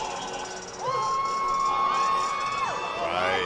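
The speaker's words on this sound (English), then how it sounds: "Yeah, big cheers for the local guy, Elijah Powell" A crowd cheers and shouts for local fighter Elijah Powell at a combat sports event, a loud sustained roar with scattered whistles and raised voices, swelling after the first second.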